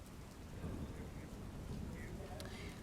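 Heavy early-morning rain falls in Siddhpur taluka, Patan, as a faint, steady wash of downpour noise with a low rumble underneath and no clear individual drops.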